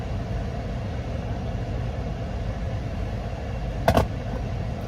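A car engine idles at a steady low rumble inside the cabin as the driver pulls out of a lot. Near the end comes a brief, sharp knock, and no one talks.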